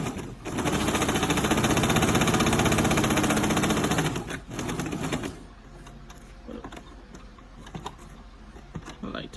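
A Brother 2600i sewing machine stitching shirring fabric, running at a steady fast rhythmic whir for several seconds, then stopping to quieter handling clicks and adjustments, with faint talk underneath.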